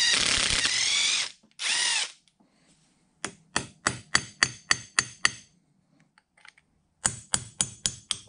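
A drill driver spins a high-speed reamer in a hole in a machine part: two sustained whirring runs, then a series of short, evenly spaced pulses, ending in another quick rhythmic burst, loud and close.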